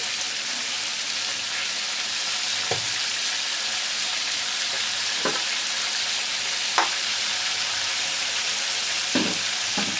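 Chopped tomatoes fry in a pan with chicken for a Bengali jhaal fry, giving a steady, even sizzle with a few soft knocks and stirring clinks scattered through it.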